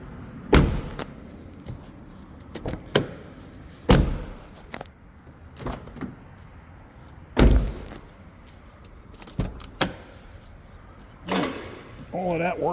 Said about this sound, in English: Open the doors, take a look at everything.